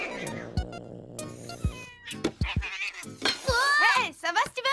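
Cartoon cats meow repeatedly in an animated series, several short rising and falling cries scattered between bursts of voices, ending in a cluster of higher-pitched mews.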